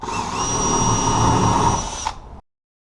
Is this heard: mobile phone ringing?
no